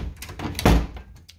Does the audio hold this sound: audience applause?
no